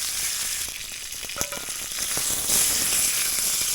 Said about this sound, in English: We want to hear a sizzle. We've got that sizzle happening.